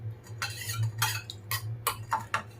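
Spoon stirring a hair dye mixture in a bowl after five drops of vitamin E oil are added, giving a run of close scraping, clinking strokes over a low steady hum.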